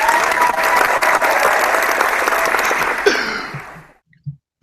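Round of applause from an audience during a live broadcast, dense clapping that thins and fades out, followed by near silence and a couple of faint stray knocks.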